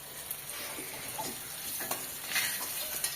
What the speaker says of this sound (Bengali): পাঙ্গাস মাছ ভেজে নিচ্ছি